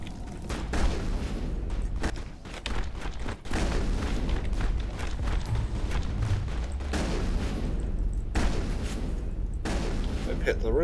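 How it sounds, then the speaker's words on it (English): Dense gunfire and booming blasts from a firefight in the video game Mass Effect 1 fill the whole stretch, loud and continuous with brief dropouts. "Sound's cutting out due to all the gunfire going on."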